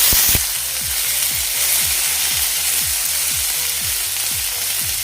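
Ginger, garlic, green chilli and rava sauté in hot oil as a steady close sizzle, with regular scraping strokes of a spatula stirring through it at an even rhythm.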